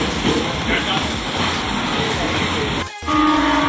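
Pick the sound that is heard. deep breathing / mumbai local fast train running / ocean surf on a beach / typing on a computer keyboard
mumbai local fast train running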